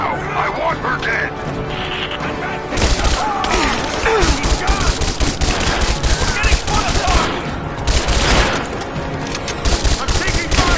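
Dense, loud automatic gunfire from a firefight in Rise of the Tomb Raider, with rapid overlapping bursts that pick up sharply after a quieter opening and keep rattling almost without pause.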